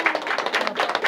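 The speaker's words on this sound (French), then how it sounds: "Je voudrais qu'on applaudisse les enfants parce qu'ils ont joué un sacré rôle dans la pièce." Children's puppet play audience clapping for the young performers: a brief, moderately faint patter of many hands applauding together.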